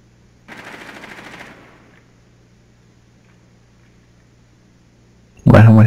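Automatic gunfire in Rainbow Six Siege, a sustained rattling burst of about a second followed by quiet, then a sudden loud blast at the very end.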